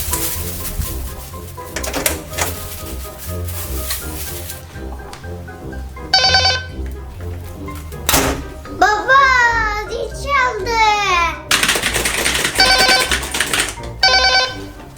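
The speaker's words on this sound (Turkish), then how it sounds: "Kapı çalıyor." A doorbell rings in a home in several bright, chiming bursts, loud and close, mixed with a voice and other people talking around it.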